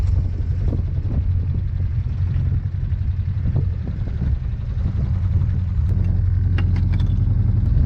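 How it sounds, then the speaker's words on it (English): A sailing boat's engine idles just on tick over, a steady low rumble running continuously and fairly close, with wind noise and no voices. "The engine's only just on tick over really"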